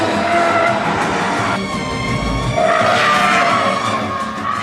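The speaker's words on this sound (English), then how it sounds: "sadly the teenager had set the car up all wrong and it had understeered wide" A 2008 Subaru Impreza WRX STI rally car understeers wide, its tires skidding and scrabbling loudly and continuously over a steady engine roar, up close.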